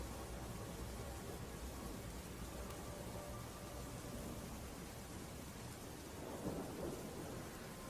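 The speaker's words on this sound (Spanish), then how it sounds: "La lluvia cayó con más fuerza." Heavy rain pours steadily in a dense roar while low thunder rumbles underneath, rising briefly near the end.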